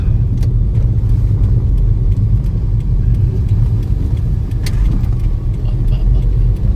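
Steady, loud road traffic on a national highway, a continuous low rumble of passing cars and engines heard up close, with faint voices now and then.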